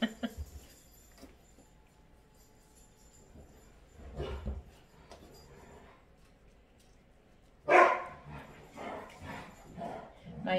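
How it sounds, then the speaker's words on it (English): Dogs playing rough in a kitchen during home baking, with bursts of barking and yips, the loudest flurry near the end, over a quiet room background with some low voice. "My dogs love to play hard like that."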